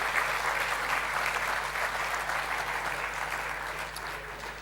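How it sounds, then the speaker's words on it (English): A conference audience gives finalists a big round of applause as they leave the stage, a continuous loud wash of clapping that holds steady and eases slightly at the end. "Can we just give a big round of applause to our finalists as they leave the stage?"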